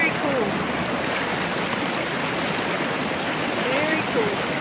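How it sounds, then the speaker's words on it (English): A good-sized woodland waterfall pours over rocks in a steady, broad rushing roar, continuous and fairly close, while a person talks quietly over it at moments. "And so we end up with another pretty good sized waterfall."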